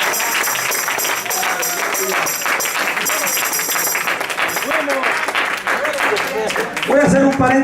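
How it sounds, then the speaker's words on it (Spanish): A church congregation claps steadily throughout, a continuous wash of applause with voices speaking and calling out over it. "Dale ofrenda de palmas al Rey."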